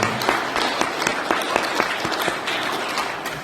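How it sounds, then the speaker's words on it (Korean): A church congregation applauds together at an Easter service, a dense, steady clapping that fills the room and tapers off slightly toward the end. "우리 예수 그리스도를 보내주신 하나님께 영광의 박수를 드리겠습니다."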